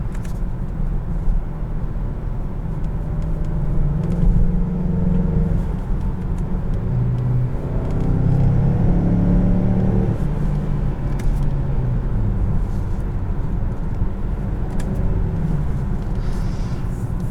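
A 2021 Mazda CX-9 Grand Touring accelerates in fifth gear under manual mode, its engine producing a steady low rumble that swells gradually from inside the cabin, with no talking.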